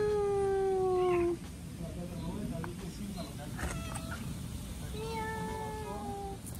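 A small kitten gives a few high, drawn-out meows near the start and again toward the end, while a person speaks quietly between the calls.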